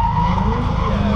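An Mk2 Ford Escort drifting at a track drift day, with a loud continuous engine roar and tyre squeal, close and steady throughout.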